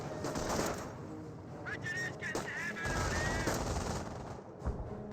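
Rifle and machine gun fire in the strategy game Company of Heroes 1: a dense, continuous clatter of gunfire bursts, steady and loud throughout, with brief higher-pitched tones mixed in.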